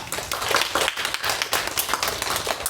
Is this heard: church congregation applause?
yes